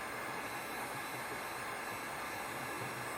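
A heat gun blows hot air to shrink a sleeve, a constant close broadband whoosh of airflow with no break.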